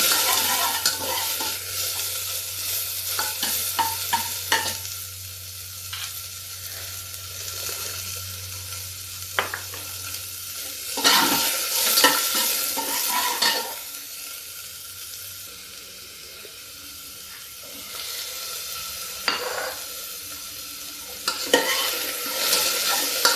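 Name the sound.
onions frying in oil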